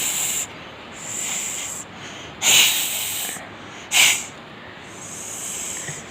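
A child imitates a snake's hiss, with a steady breathy hiss that swells into two louder, sharper bursts before fading back to a softer hiss.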